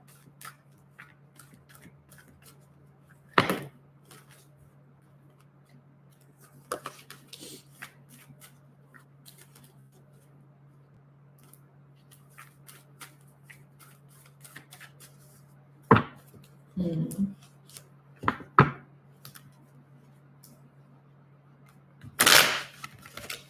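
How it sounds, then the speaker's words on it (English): Tarot cards being shuffled, several short scattered bursts of riffling and card slaps over a quiet background hum, close and sparse, with a louder clatter near the end. "Wow, that was a terrible shuffle."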